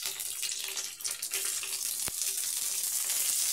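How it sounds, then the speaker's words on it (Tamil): Steady, close sizzling and crackling of curry leaves frying in hot ghee, continuous and fairly loud with a brief sharp pop midway. "இதை நல்லா பொரிஞ்சி வர கருவேப்பிலையை சேர்த்துக்கலாம் ஒரு பக்கம்."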